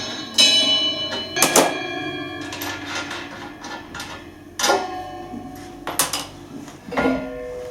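A 19mm spanner working a nut off a Promatic clay target machine while removing the carousel, with sharp metallic clinks and taps at irregular intervals over a quiet background.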